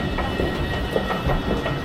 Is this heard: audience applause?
no